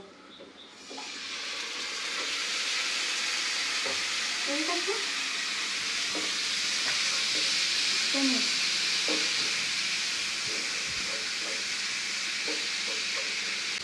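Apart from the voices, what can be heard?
marinated beef cooking in a pan on the stove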